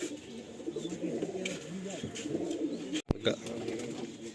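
Several pigeons cooing and calling near a loft as the birds are released, a steady murmur of coos with a sharp clatter near the end, with people talking faintly under them.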